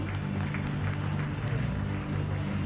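A large audience keeps up sustained clapping at an AIMA 60th-anniversary awards ceremony, a thick wash of applause that stays loud and even, with a faint low hum beneath it.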